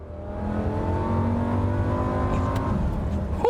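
A Lamborghini Gallardo's engine revs as the car accelerates, a loud, sustained mechanical roar whose pitch rises gradually over several seconds. Nobody speaks over it.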